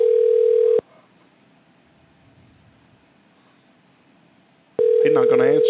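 An outgoing phone call rings unanswered: one long ring tone, several seconds of quiet line noise, then a second ring as voices talk over it.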